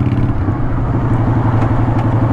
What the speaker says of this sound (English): I am in the middle of rush hour traffic.